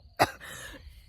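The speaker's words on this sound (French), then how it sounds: "Je tousse." A person outdoors in the mountains coughs once after swallowing a gnat: a single sharp, close cough followed by a faint breathy tail and quiet background.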